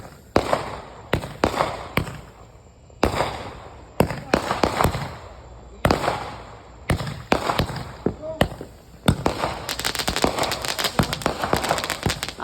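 Fireworks go off in a rapid series of sharp bangs and crackles, loud and close, with people reacting in the background.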